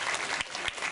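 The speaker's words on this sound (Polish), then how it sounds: "Brawa." Applause from the audience at a charity auction during a WOŚP fundraising finale in Brzostek, heard as a brief, moderately distant burst of steady crowd clapping.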